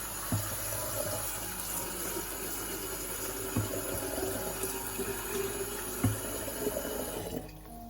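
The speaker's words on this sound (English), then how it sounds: "And I'll fill them up with water." Water runs steadily into a big plastic jar holding olives, a continuous gushing wash with a few soft knocks, ending abruptly near the close.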